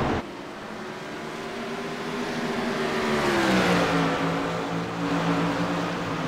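Race cars on a dirt track at the Copper World Classic, engines droning loudly and steadily, rising and falling in pitch as the cars pass, with no talk over it.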